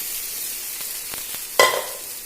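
Parippu curry, a lentil curry, is poured into a hot pan over browned ingredients and stirred. A steady sizzle and hiss runs throughout, with a louder splash and crackle when the curry hits the pan.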